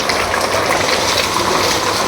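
Water gushes steadily and loudly as it is poured over a cow being bathed in a cattle shed, a close, continuous splashing rush with no pauses.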